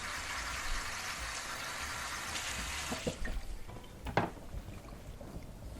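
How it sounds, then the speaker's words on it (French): Harvested carrots with their tops removed are washed by hand in a tub of water, giving a steady watery swishing that turns into scattered splashes and clunks near the end, with no talking. "on enlève les fans, puis on lave les carottes."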